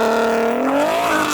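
A tuned Audi S3 launches hard in a drag race, its engine note loud and close, climbing steadily in pitch as it accelerates away.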